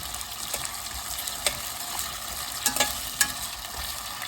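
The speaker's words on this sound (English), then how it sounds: "So shallow fry them till they are golden in color." Potatoes shallow fry in hot oil for dum aloo, a steady bright sizzle with occasional sharp pops and the clink of stirring.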